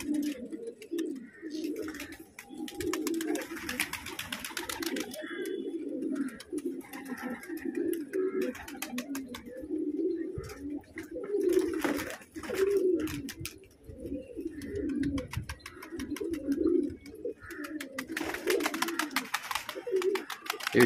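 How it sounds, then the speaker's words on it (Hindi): Pigeons coo in low, repeated throaty phrases, steady and close throughout, with a few faint chirps from other birds in the background. "ये देखिए हमारे कबूतर।"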